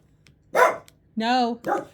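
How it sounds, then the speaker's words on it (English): A pet dog indoors gives three sharp barks in a home setting, the middle one longer and more drawn-out, each separated by brief quiet, fairly close to the microphone. "Sorry, my dog's barking."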